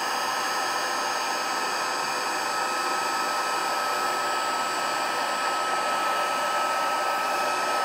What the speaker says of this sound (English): We'll be bringing in our new Stampin' Heat tool.